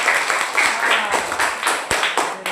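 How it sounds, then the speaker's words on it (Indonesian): Classroom applause for a student group presenting: a few seconds of scattered, moderately loud hand claps from a room of students, with irregular sharp claps standing out. "Tepuk tangan untuk kelompok."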